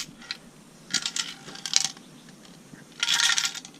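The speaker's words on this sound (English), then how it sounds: "There's actually coins in there." Coins rattle and clink inside a small decorative metal piece among scrap items, with several short bursts of jingling as it is shaken, the last burst the longest and loudest.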